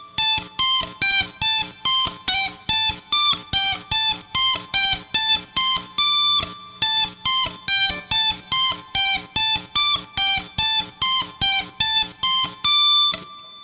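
Guitar riff from the Chrono Trigger battle theme played with the right hand only, a fast repeating pattern of bright picked notes in steady rhythm, close and alone.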